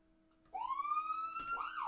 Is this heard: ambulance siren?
yes